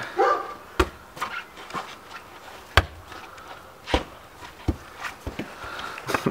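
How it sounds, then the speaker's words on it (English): A dog gives several short, sharp barks at irregular intervals, close by and fairly loud, with no talking over them. "Dog!"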